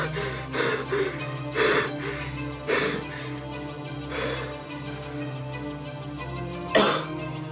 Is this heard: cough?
yes